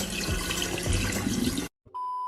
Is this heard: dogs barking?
no